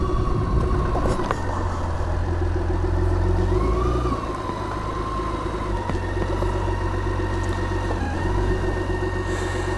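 A BMW K1600 GTL motorcycle is parked at a bike spot by Lake Konstanz, its six-cylinder engine idling steadily and close by, with a brief change in tone partway through.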